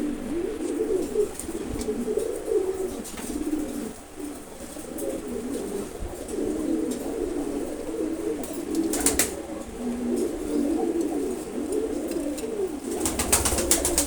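Soft, low khaki pigeon coos repeat steadily throughout, with a few brief wing flaps or rustles and no talking, indoors.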